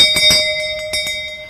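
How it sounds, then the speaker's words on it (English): A small wedding bell at a beach ceremony on Trinity Beach rings clearly and close, with a sustained tone and several quick strikes that each chime brightly and let the ring hang between them. "I ask you to give the bell a hearty ring"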